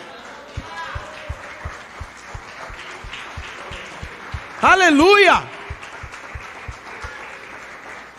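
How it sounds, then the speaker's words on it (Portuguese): A church congregation applauds throughout with steady crowd noise and a regular low thumping beat, and a loud voice shouts once over it midway. "Você pode aplaudir ao Senhor por essa palavra dele?"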